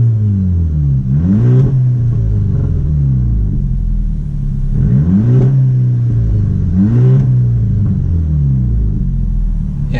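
A turbocharged TSI car engine with its stock diverter valve idles with a deep rumble, then revs up three times, each climb in pitch followed by a drop back to idle.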